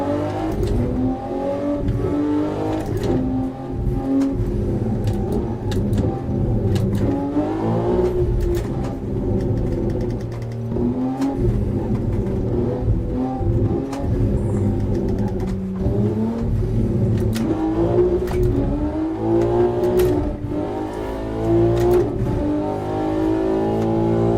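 A race car in Assetto Corsa Competizione, its engine revving loud and continuous through repeated gear shifts and rising pitch sweeps, with no talk over it.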